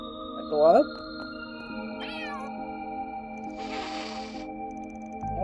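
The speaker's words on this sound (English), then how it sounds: "The cat every now and then." A cat meows a few times in a room, short rising calls over steady game music and electronic tones, with one louder call early and a fainter one near the end.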